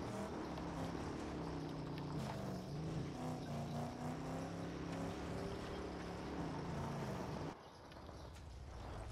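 Vehicle engine in the Mad Max video game, a loud sustained rumbling drone with shifting pitch as it revs and rolls, cutting off abruptly near the end and leaving a quieter tail.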